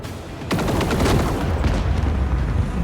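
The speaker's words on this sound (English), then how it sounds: "Oh, good explosion." A space battle explosion in the game Rogue Trader erupts suddenly as a loud boom, then rumbles on as a sustained roar with crackling blasts until the end.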